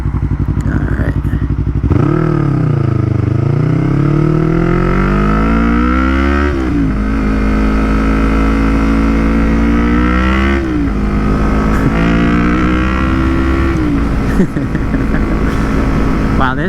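A Yamaha MT-03 motorcycle fitted with a full Akrapovic exhaust is ridden up close, its engine note rising and falling through repeated revving accelerations and shifts, loud and dominant throughout.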